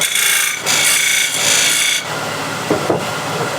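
A spindle gouge cuts wood spinning on a lathe while shaping a box lid, giving a loud, close, continuous scraping hiss that swells and eases across several short passes.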